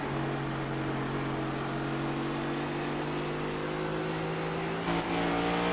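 A race car in the iRacing Cup Series video game at New Hampshire holds a steady droning engine note, then drops a gear with a brief blip near the end, with no voices over it.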